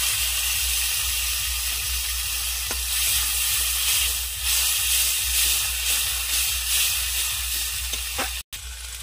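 Water poured into a pan of cooking meat and chopped tomato sets off a loud, steady hiss and sizzle that holds for several seconds before cutting out abruptly near the end.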